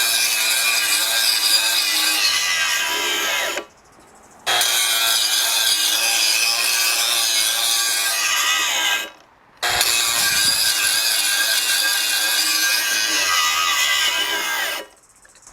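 Milwaukee M18 18-volt grinder running on a 6 amp-hour high-output battery, a loud steady high-pitched whine in three long bursts, each run cutting off briefly into near silence before spinning up again.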